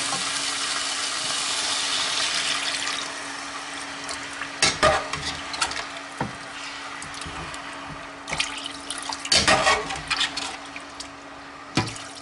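A full litre of water goes into a pan of pork curry cooking in its dark browned base, making a close, sustained hiss and bubbling sizzle, with scraping and clattering stir noises coming in later.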